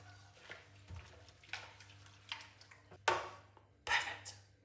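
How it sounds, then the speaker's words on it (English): Ingredients get stirred in a Russell Hobbs slow cooker: a handful of separate wet scraping, squelching strokes at an irregular pace, close by, with soft kitchen background between them. "Time to stir."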